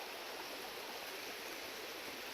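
Creek water rushes steadily around the outside bend of a gold-prospecting stream in British Columbia, a constant close hiss of flowing current with no voices over it.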